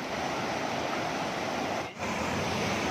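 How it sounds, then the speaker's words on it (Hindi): Steady broadband roar of spray from Bhatinda waterfall near Dhanbad, continuous and loud with a brief dip near the end, no voices. "इसका फुहारा जो आ रहा है पानी का, और भी अच्छा लग रहा है"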